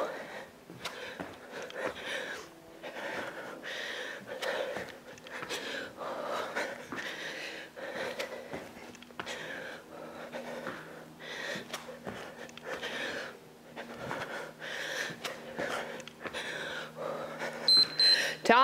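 Heavy, rhythmic breathing from a woman doing a one-dumbbell upper body and cardio interval workout at home, with repeated panting breaths close to the microphone, fairly quiet overall.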